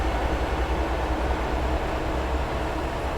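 A train on the Riviera line in Train Sim World 6 rumbles as a steady, loud broadband roar with a low throb, heard from outside the train and continuous throughout.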